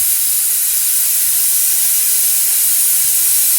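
A pressure cooker full of sambar rice vents steam on the stove in a loud, steady, unbroken hiss that holds at the same level throughout.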